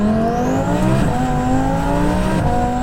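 A 1000HP twin-turbo Audi R8 in manual mode accelerating hard down a straightaway, heard from inside the car as a loud, steady engine roar whose pitch climbs with gear changes.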